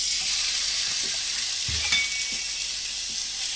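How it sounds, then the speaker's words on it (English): Steak frying in a pan gives a steady close sizzle with a few soft knocks and shifts in the pan, alone without talking. "I decided to cook me mum and I a steak."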